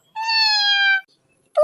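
A single clear, drawn-out cat meow close by, lasting under a second, followed by silence and the start of another sound at the very end.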